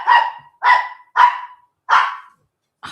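A dog barks loudly and close, four evenly spaced sharp barks followed by the start of a fifth, with silence between them and no voices.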